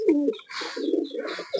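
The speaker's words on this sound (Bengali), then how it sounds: "খুব সুন্দর কোয়ালিটির কবুতর দেখেন।" Pakistani high flyer pigeons coo softly at close range, a brief run of low, throaty rolling coos with no voices.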